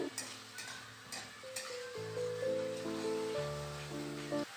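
Ginger spice paste sautéing in a pan, with soft scraping stirs and a low sizzle sitting under steady background music for the whole stretch.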